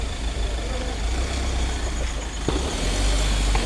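Car and heavier vehicle engines idle and rumble in a busy parking area, a continuous low drone of motors with a faint knock partway through and no clear voices.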